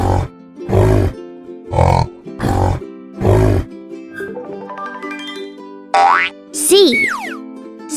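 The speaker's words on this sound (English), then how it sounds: "A yak sounds like this." A yak calls in a series of deep, loud grunting bellows, five evenly spaced pulses, followed by a few boing-like cartoon effects.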